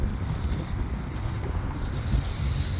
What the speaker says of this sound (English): if it's really windy on the camera, I'm sorry, guys. It's pretty breezy out here.